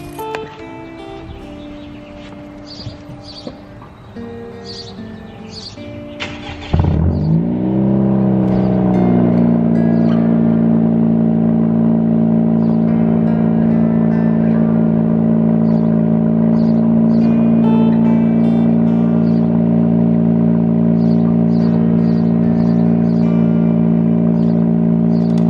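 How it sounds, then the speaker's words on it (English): A 10th-generation Honda Civic Si with a custom exhaust cold-starts, cranking and catching around seven seconds in, then settles into a loud, steady, rumbling idle through a throaty exhaust that holds for the rest. "I'm gonna get a quick cold start for you guys. Let me know how it sounds."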